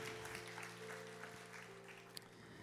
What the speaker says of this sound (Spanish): Si va a dar ese aplauso, délo fuerte al Señor.